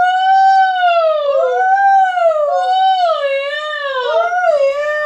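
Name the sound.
voice imitating a siren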